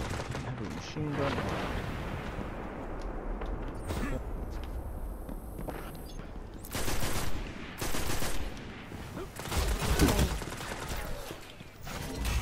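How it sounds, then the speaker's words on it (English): A heavy machine gun firing in the video game Rumble, with loud bursts of rapid gunfire in several clusters, mixed with other game effects and some talking. "I have a heavy machine gun."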